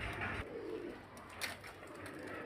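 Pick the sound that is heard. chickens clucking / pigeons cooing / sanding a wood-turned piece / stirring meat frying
pigeons cooing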